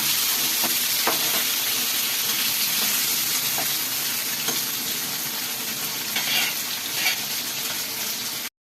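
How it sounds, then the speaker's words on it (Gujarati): Chopped tomatoes and onions sizzle and crackle loudly in a hot kadai for kadai paneer, with constant frying hiss and occasional stirring scrapes, and no talk. "ટામેટા અને ડુંગળી. એને પણ આપણે ફ્રાય કરવાનું."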